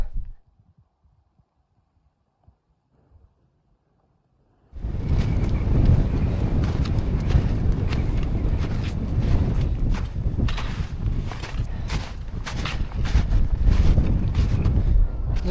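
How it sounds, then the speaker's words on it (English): Strong wind in the Alps near a WW1 alpine hideout: after a few seconds of near silence, a loud roaring gust buffets the microphone and keeps blowing in heavy, rumbling surges. "The worst part about this wind is it wasn't supposed to be here."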